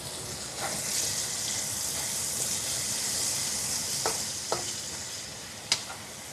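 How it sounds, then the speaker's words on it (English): Food gets stirred in a hot pan, a continuous sizzle with soft scraping strokes and a few sharp clicks of the utensil against the pan, fairly quiet and close, with no talking. "Stirry stir."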